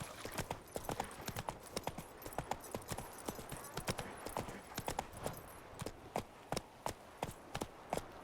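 Roach the horse gallops in The Witcher 3 video game, a steady run of sharp hoof clip-clops that grows more distinct and evenly spaced toward the end, close and alone with no talk.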